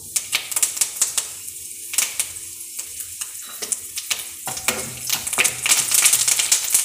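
Mustard seeds splutter and crackle in hot oil, with dense, close popping and sizzling that builds louder toward the end.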